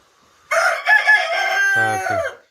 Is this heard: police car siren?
no